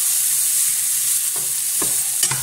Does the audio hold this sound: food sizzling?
yes